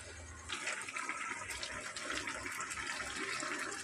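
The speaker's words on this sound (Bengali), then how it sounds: "এবারে দিয়ে আগে থেকে গুলতে দেওয়া সেই জলটা" Pre-mixed water pours into a pot of jujube pickle, a close, continuous gushing splash that starts abruptly and runs steadily to the end.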